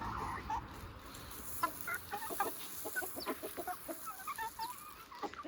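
Several chickens cluck in short, scattered bursts on a farm on a rainy day, with a steady hiss of rain underneath and no talking.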